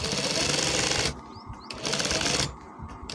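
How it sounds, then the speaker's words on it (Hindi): A sewing machine stitches a shirt in two short runs of fast, buzzing clatter, with quieter gaps between them. "ये इस तरह आपने सिलाई लगानी, जैसे मैं लगा"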